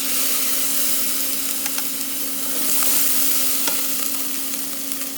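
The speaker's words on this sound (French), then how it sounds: "On va déglacer maintenant avec 1 cuillère à soupe de vinaigre de Xérès." Continuous broadband sizzle of a hot pan deglazed with a tablespoon of sherry vinegar while cooking cardoons with anchovies and black olives, steady and close with a faint hum and a few soft clicks, no talking.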